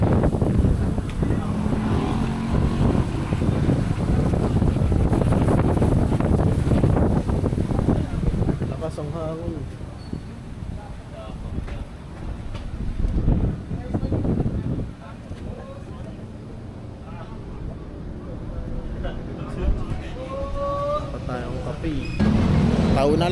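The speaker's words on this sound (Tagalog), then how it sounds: "grabe lakas ng hangin" Strong wind roars and buffets the microphone in heavy gusts at Marilaque before dawn, easing midway then surging again, with a person talking intermittently underneath.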